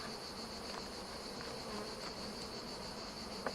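A colony of black honeybees buzzes at an open hive during an inspection, a dense, steady, close hum that holds without a break, with no talk over it.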